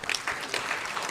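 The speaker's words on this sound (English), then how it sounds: "another big round of applause?" An audience at a formal peace-report ceremony before traditional leaders gives a short round of applause, soft and somewhat distant, with a few separate claps audible.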